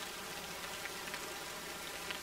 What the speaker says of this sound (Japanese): また雨か。